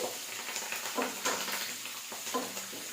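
Green chillies for a fenugreek leaf chutney fry in a pan with a soft, even sizzle, broken by a few scraping stirs at a moderate, close level.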